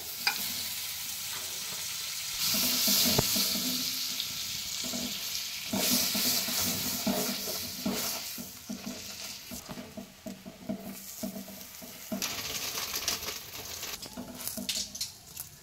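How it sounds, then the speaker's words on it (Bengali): Pav bhaji fries in butter in a pan, a steady close sizzle with crackling patter and intermittent scraping stirs, growing busier midway, with no voices. "দিলাম আরেকটু বাটার।"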